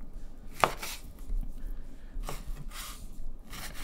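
A knife cuts kabob meat into cubes for Persian shish kabob, giving a few soft, separate cuts on a board with quiet pauses between them.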